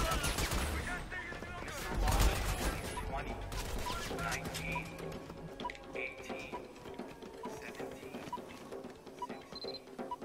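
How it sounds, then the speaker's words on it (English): Gunfire directed at players in the video game Army of Two, a dense, continuous rattle of shots with mechanical clatter running throughout, fairly loud and busy with a heavier burst near the start. "You seem to be being shot at."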